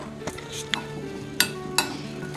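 Mixed vegetables such as carrot and radish are tossed with salt and turmeric for pickle, with soft stirring and four distinct clinks of a spoon against a bowl, close by over a quiet background hum.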